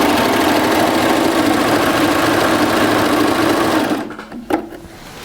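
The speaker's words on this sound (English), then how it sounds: "it's only a matter of sewing." A Baby Lock serger runs fast and steady through double knit fabric with its cutting knife engaged, giving a loud, even mechanical whir that stops abruptly near the end, followed by a couple of faint clicks.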